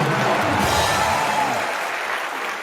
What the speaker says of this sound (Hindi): जोरदार तालियां ठोको